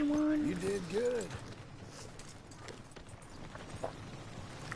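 Horse hooves clip-clop in the Red Dead Redemption 2 video game, a faint rhythmic patter under a voice that speaks briefly at the start before the hoofbeats carry on alone.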